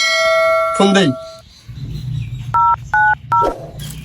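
A telephone signals an incoming call with three short, loud, evenly spaced electronic double-tone beeps near the end, after a brief tonal jingle and a low rumbling background.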